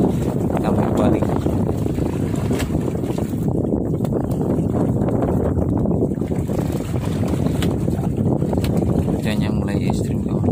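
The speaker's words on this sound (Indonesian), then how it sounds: "Cuacanya mulai ekstrim, kawan. Angin barat laut." Strong northwest wind buffets the microphone on a fishing boat at sea as waves build, a constant loud roar of gusts and rushing water running throughout.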